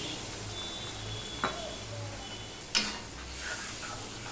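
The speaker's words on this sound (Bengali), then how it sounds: "দিয়ে মশলাটা আমি একটু কষিয়ে নেব।" Spices with turmeric, chili and coriander powder sautéed with vegetables for a Bata fish curry, sizzling steadily and softly in the pan with two brief clinks of a spoon against the vessel.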